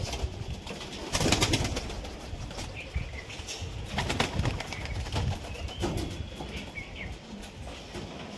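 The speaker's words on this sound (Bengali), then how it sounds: "দেখুন কত সুন্দর দাঁড়িয়েছে পায়রাগুলো" Pigeons kept for match flying at a home loft coo softly amid rustling and wing flaps, moderately near, with scattered bursts of movement throughout.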